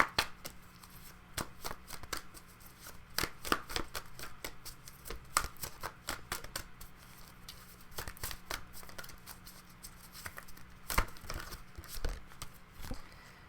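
Tarot cards being shuffled, with sharp riffling snaps and soft rustling repeating steadily at close range over a quiet room, no voices.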